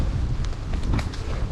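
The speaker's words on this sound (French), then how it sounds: "On entend le vent se lève de plus en plus fort." Strong wind roars continuously into the microphone outdoors as rain intensifies, a dense, rumbling gust noise filling the whole moment without any clear breaks.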